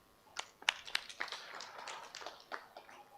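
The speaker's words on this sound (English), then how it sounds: "our master's recipients deserve a louder hand clap than that" Scattered hand claps from an audience at a university graduation ceremony, thin and fairly faint, a handful of sharp individual claps rising into a brief patter before trailing off.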